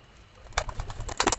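A Madrasi hen pigeon is let go by hand, giving a short burst of close wing flaps mixed with soft cooing, brief and fairly quiet against a still background.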